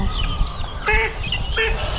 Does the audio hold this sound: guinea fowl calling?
yes